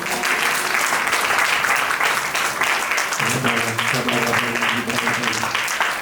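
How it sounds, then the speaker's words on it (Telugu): A church congregation at a Sunday worship service applauds loudly and continuously, dense clapping filling the whole stretch, with a voice or music tone joining in partway. "అంత చప్పట్లు కొట్టి ఒకసారి"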